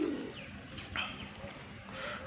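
Short pigeon coos sound a few times close by over a low background murmur, with a brief chirpy call in between.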